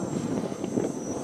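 A small quadcopter drone built from a STEM kit flying, its motors giving a steady buzzing whine with a breathy rush, moderately close and unbroken.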